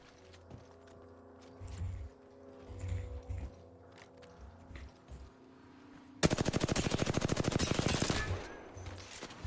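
Gunfire in the video game Apex Legends: after several seconds of quieter in-game ambience, a loud, rapid automatic burst breaks out and rattles on steadily for about three seconds, close and dominant.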